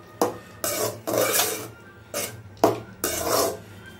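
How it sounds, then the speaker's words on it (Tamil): Spoon scraping and stirring coriander into tomato rice in a pot, a series of about five close, gritty scraping strokes with brief gaps between them. "கொத்தமல்லி போட்டு ஒரு மாதிரி மிக்ஸ் பண்ணிக்கங்க."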